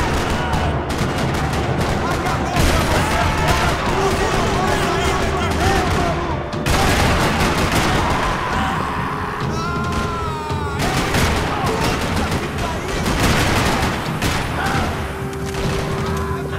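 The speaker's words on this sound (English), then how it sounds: "Another parking lot rattling with gunfire." Sustained gunfire fills a parking lot in the video game Max Payne 3, dense rapid bursts of shots and booms rattling continuously and loud throughout, with brief voices mixed into the chaos.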